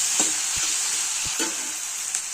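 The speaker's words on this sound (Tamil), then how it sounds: "கத்திரிக்காயும் தக்காளியும் நல்லா குழையிற அளவுக்கு வதக்கணும்." Brinjal and tomato sauté in hot oil in a pan, a steady bright sizzle running throughout with a few soft spoon-stirring scrapes, close and alone with no voices.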